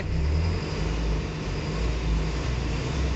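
A car engine roars steadily under a hard press on the accelerator, a loud, rough low drone that holds for a few seconds with slight surges, no voices.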